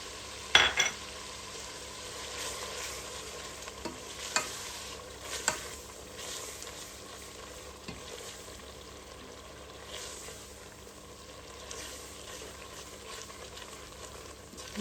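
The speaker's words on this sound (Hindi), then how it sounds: "इनको भी 2-3 मिनट भून लेते हैं।" Chili flakes and masala frying in a pan for mash ki dal, a soft continuous sizzle with occasional scraping stirs and a few brief utensil knocks, steady and close.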